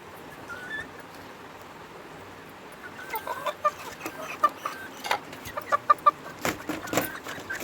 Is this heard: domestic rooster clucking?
yes